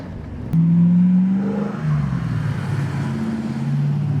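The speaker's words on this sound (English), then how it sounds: "Just spins the tires up." A 1970 Mercedes 280SL Pagoda restomod suddenly accelerates hard with its tires spinning, the engine note jumping to a loud, sustained rising drone and holding a strong, close roar for several seconds.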